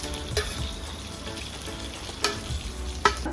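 A tempering of chana dal, fenugreek seeds, cumin, mustard seeds and dried red chillies fries in hot oil for gongura dal, giving a steady close sizzle with a few sharp stirring clicks and pops.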